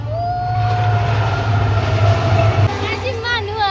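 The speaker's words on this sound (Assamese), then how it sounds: "আজি মানুহ ৰেল আহিছে" A passenger train rumbles past at close range, loud and steady with rolling wheel noise and a faint squeal before it trails off.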